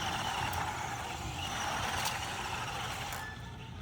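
A mini basher RC truck driven on the ground, its steady whirring drive noise running continuously and fairly close, with a few sharp clicks or knocks over it, easing slightly at the end.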